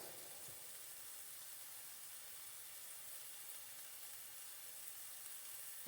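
Onion and pepper sauteing in oil in a pan make a soft, steady sizzle and hiss, faint and even throughout with no talking.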